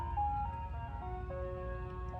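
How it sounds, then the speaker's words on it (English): An ice cream truck plays its chiming jingle melody outdoors, a sustained tune steady in loudness throughout, heard alone without talk over a low background rumble. "There's an ice cream truck."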